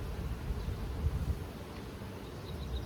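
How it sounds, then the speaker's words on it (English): Honey bees swarming around an open hive box during a hive split, giving a soft, steady low buzz with faint scattered insect tones, close by and fairly quiet, with no talking. "A lot of bees."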